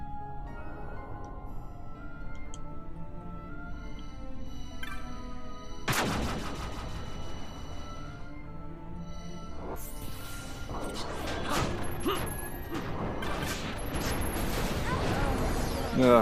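Bomb enemies in Final Fantasy XII explode in sharp, loud blasts: one big burst, then a cluster of crashing explosions mixed with battle effects and game music.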